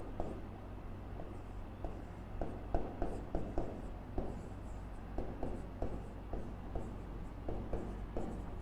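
Pen or chalk writing out notes during a maths lesson, a steady run of short scratchy strokes in irregular bursts close by over a low constant hum, with no talking.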